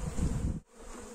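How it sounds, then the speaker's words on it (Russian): Honeybees in a small six-frame colony humming at the hive, a close, steady buzz that dips suddenly for a moment before resuming more quietly. "Так, тут пчелы немного."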